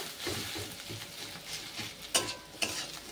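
Fish roe and potatoes frying in a pan while being stirred, giving a steady close sizzle with scraping stir strokes and two sharper clinks near the end, no talking.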